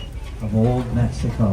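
Birds coo softly on a studio back lot, a few rounded repeated calls close by, mixed in with someone talking over them.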